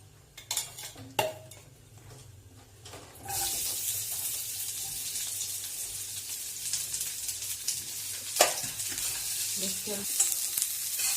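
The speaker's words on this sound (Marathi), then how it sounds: "कांदा लाल होईपर्यंत चांगला परतून द्यायचा, गोल्डन रंगाचा होईपर्यंत" Onion, ginger, garlic and coconut fry in a pan for misal pav, with a steady loud sizzle starting a few seconds in after some clattering of utensils, and occasional stirring scrapes and clinks on top.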